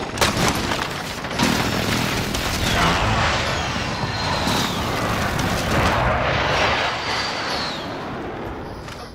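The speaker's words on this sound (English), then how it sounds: "Oh, minigun!" A minigun fires in a video game, rapid dense bursts of loud gunfire rolling on for several seconds with booming blasts mixed in.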